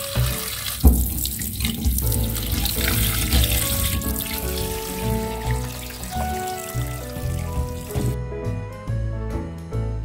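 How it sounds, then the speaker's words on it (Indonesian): Salted squid washed by hand under a running kitchen tap, a steady close splash of water into the sink with shifting gurgles and trickles, no talking. "Pertama-tama kita cuci dulu cumi asinnya ya."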